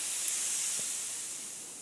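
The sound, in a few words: air compressor releasing pressure from airbrush kit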